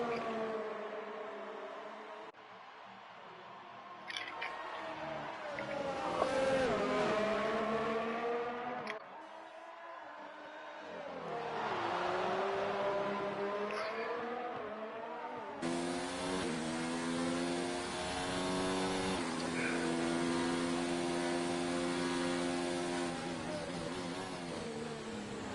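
Formula 2 race cars in a racing video game lap Circuit of the Americas, engines whining and shifting through gears in long rising sweeps, one car's note giving way to another's, loud and continuous with no voice.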